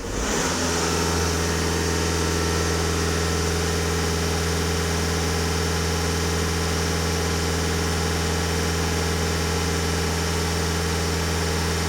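VW Passat 2.0 TDI diesel engine held steady at 2500 rpm, a loud continuous droning hum with strong steady low tones, close and unchanging throughout.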